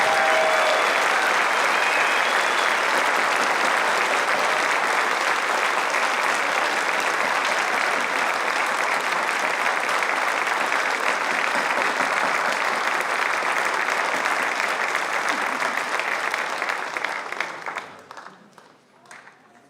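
Sustained applause from a ceremony crowd honoring graduates and 2019 Ivy Day award recipients, even and full for most of its length, then thinning and fading out near the end.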